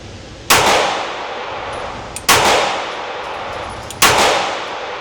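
Three loud, sharp pistol shots from a SIG P365 AXG Legion or customized P365 build, evenly spaced about two seconds apart, each a close crack with a short ringing decay.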